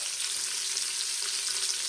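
Cabbage and sausage sizzle steadily in a hot Instant Pot insert, a continuous close, even hiss of frying with faint crackles and no talking.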